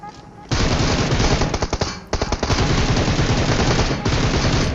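Sustained automatic gunfire from PUBG Mobile, loud and close, with rapid bursts of shots rolling almost continuously after a brief quiet start, plus a few sharper single cracks.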